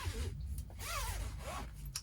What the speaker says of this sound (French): Une deuxième fermeture éclair ici sert à enlever complètement la capote pour le nettoyage.